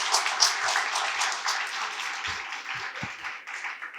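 Audience clapping at a Republic Day of Türkiye event at SZABIST University Karachi, a steady wash of many hands clapping through the room, fairly loud and continuous, with a few low thumps underneath.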